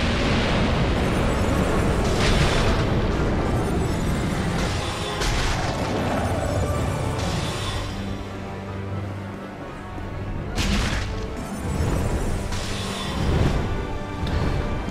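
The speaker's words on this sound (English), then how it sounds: "he's doing his fire breath" A boss's roaring fire-breath attack in Dark Souls 2 fills the space with loud, continuous rumbling blasts and booming surges that swell and recede throughout.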